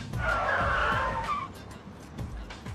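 A car skids to a stop with a short, sharp tire screech up close, which fades into a low rumble as the car settles.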